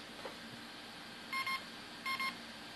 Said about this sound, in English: So it gives you the little beep